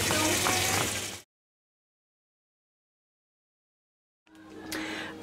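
A washing machine runs a rinse cycle on cloth diapers, with rushing, splashing water for about a second, then silence for three seconds, before the water noise returns, close and moderately loud.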